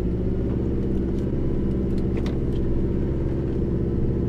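A 4x4 truck crawls a steep mountain track in first gear, low range, its engine a steady, close, low rumble with a few faint knocks and rattles over the top.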